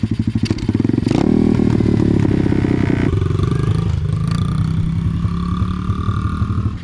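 Small Amazon pit bike engine with an upgraded carburetor running at a loud, near, fast-idling buzz, its pitch surging and then settling unevenly, sounding rough.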